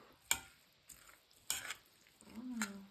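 A utensil scrapes and taps in a bowl while a hot-sandwich filling with a pepper mix is stirred, giving a few quiet, sharp clicks and scrapes.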